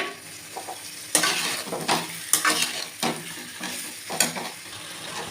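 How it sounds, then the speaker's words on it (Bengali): Stingray fish pieces sautéing in a pan with potatoes, ghee and spices, a loud sizzle broken by repeated scraping stirs of the spatula at an uneven rhythm. "এবার আমি মাছগুলো দিয়ে আবার কিছুটা কষিয়ে নেবো"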